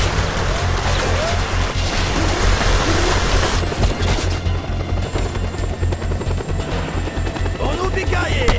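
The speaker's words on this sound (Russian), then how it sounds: "Вертолет. О, это такси за мной!" Helicopter in the video game Just Cause 2, a steady loud rotor chop with deep rhythmic low thumping throughout, mixed with game ambience and a brief crash partway through.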